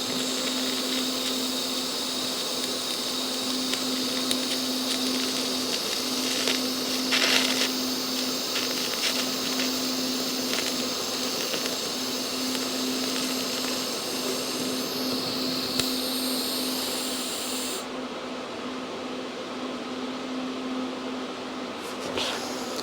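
MIG welding on the frame of a 1981 Harley-Davidson Sportster hardtail: a steady, close crackling buzz runs almost unbroken for over twenty seconds, tack flowing into a continuous short pass, with a constant electrical hum beneath and no talking.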